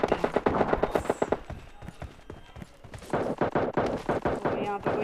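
Gunfire in the mobile shooter game PUBG Mobile Lite: rapid, sharp bursts of shots in quick rhythmic volleys, fairly loud and near, with a pause mid-way before more firing resumes.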